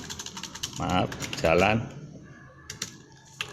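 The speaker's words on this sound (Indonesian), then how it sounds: "kita lanjutkan langsung aja ngetik" Rapid clicking keystrokes on a computer keyboard while typing a mail merge document, close and uneven, interrupted by a voice talking in the middle.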